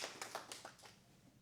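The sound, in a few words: applause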